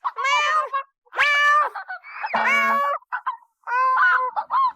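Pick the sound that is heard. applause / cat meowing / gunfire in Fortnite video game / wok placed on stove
cat meowing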